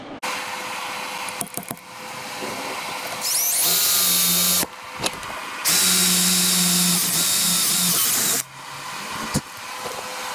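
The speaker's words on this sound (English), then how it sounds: "So let's drill some holes." A power drill whirs loudly in two long bursts with short pauses and clicks between, its motor pitch steady and close by.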